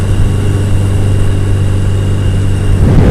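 A Yamaha Maxim motorcycle engine running steadily while riding on a hot day, a constant low droning hum with wind noise, close and fairly loud, no talking.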